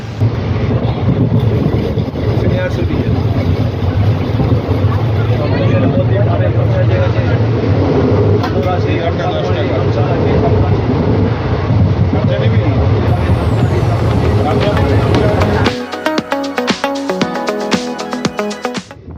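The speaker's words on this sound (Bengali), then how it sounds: "ট্রেন চলছে দ্রুত গতিতে" A train between Naihati and New Jalpaiguri approaching Katwa Junction rumbles steadily along at speed, a loud continuous low roar with rattling, while music or talk plays over it near the end.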